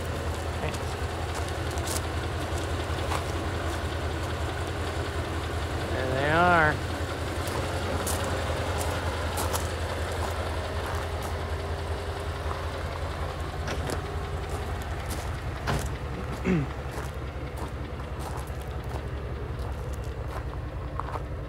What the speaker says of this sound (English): This is a hot start. Car's been idling for a while.